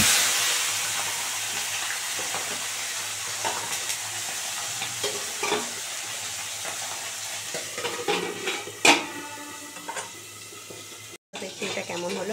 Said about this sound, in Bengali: কড়া করে ভাজা হয়ে গেছে